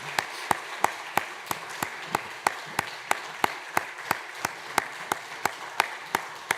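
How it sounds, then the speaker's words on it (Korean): Steady rhythmic clapping during a Sunday church service, with sharp regular claps about three per second standing out over a softer wash of congregational applause. "우리 함께 축복의 박수 부탁합니다."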